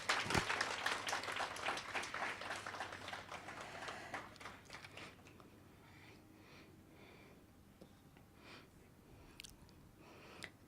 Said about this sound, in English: let's give our Chief Justice another round of applause